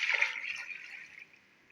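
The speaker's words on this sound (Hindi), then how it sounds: "2 लीटर मैंने पानी डाल दिया इसके अंदर।" Water pours into a pressure cooker holding duck pieces for pulao, a steady splashing stream that is loud at first and then eases to a softer trickle, with no talk over it.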